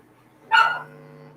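A single sharp dog bark rings out close and loud indoors in a house, with quiet background hum before and after.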